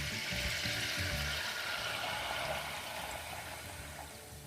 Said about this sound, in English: that's why you can hear that the bubbles and noise has gone a little bit quiet